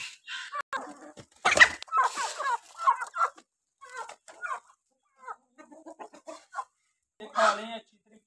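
Chickens cluck and squawk close by while being fed wheat grains, in a series of irregular bursts with short pauses between them.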